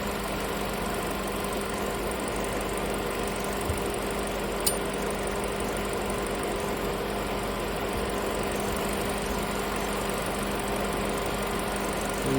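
A 2000-2007 Ford Focus 2.0L engine idles steadily with a low, even hum and faint vibration, close by and unbroken with no talk.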